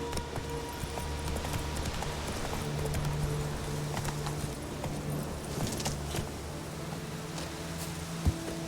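Roach the horse trots in The Witcher 3 video game, steady hoof clip-clops carrying on under a constant ambient hum, with one sharp knock near the end.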